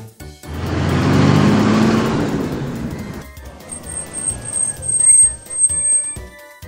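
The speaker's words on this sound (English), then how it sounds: "Airport tank." An airport firefighting tank vehicle's heavy engine roars up loudly and then fades away, followed by quieter mechanical rattles and a high whine at the end.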